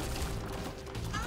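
A bomb blast in the video game Binding of Isaac, a short crashing burst with muffled low thump heard under ongoing game sounds.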